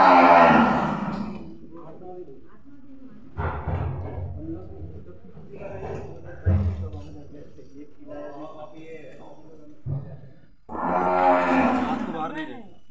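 A newborn male calf lets out loud, drawn-out moos, one at the start and another near the end, with people talking nearby in between.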